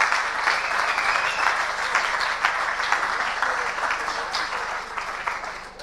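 An audience at a village gathering's opening welcome applauds in a dense, steady wash of clapping that holds for several seconds before easing slightly, with faint voices mixed in.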